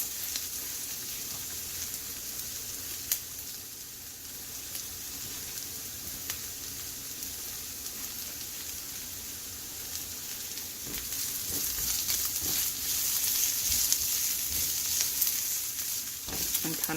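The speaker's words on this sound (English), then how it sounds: "I'm going to start adding my shallots." Shallots frying in a pan as a burger topping, a soft continuous sizzle with faint stirring clicks, steady and fairly quiet, growing a little louder toward the end, with no voices.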